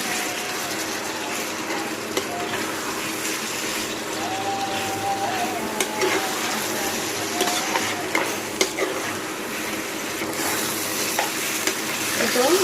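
Jackfruit seeds stirred and fried in spice masala in a pan, a steady close sizzle with scraping stirs and occasional utensil clicks running throughout.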